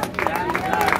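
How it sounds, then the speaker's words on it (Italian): Applause and crowd noise at a trail-running awards ceremony as a runner named Dario is honoured, a steady patter of clapping mixed with murmuring voices and some talk in the room. "Facciamo un applauso a Dario."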